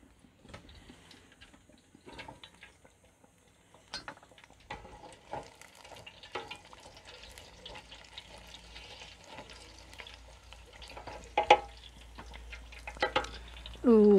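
Lion's mane mushrooms frying in oil in a pan, giving a low, intermittent sizzle with stirring clatter and utensil scrapes that grow louder toward the end, close up with no talk.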